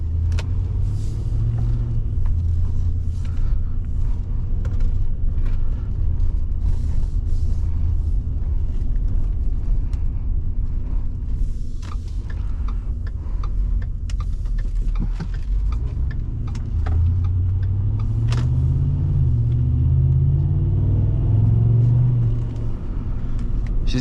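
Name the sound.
Ford F-150 Harley-Davidson Edition 5.4 liter engine driving on road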